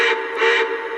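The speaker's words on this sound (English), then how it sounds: "Just then he heard a whistle." A steam train whistle from a Thomas the Tank Engine cartoon gives one loud, steady, high-pitched blast lasting about a second.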